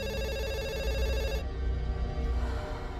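A telephone used as a kitchen timer while a cake bakes rings with steady electronic bell tones in the first half, then a busier mix of tones follows. The ringing is close and fairly loud, with no talking.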